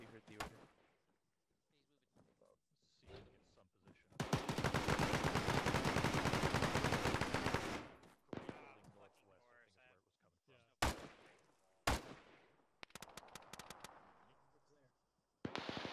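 Gunfire in a military video game: a long sustained burst of heavy automatic fire followed by scattered single shots and short volleys, loud and close, with faint radio voices in between.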